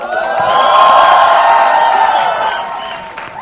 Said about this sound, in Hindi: इसके लिए ताली बजा दो एक बार यार